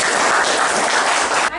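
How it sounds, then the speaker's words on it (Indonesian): Classroom applause from a group of students, a loud, dense burst of clapping that runs steadily and then cuts off abruptly. "sekali lagi tepuk tangan dulu"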